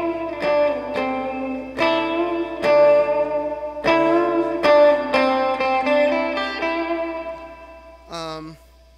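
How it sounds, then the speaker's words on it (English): An electric guitar played through a dark spring reverb setting, a run of clean plucked notes and chords each with a softened, rounded tail, ending in a quick bent or slid note, with some voice activity around the playing. "I like my dark reverb"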